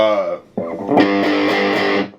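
Electric guitar played through a Boss Katana MK II 50-watt amp on its 0.5-watt setting with gain distortion, a short sustained distorted chord ringing close and loud for about a second before cutting off.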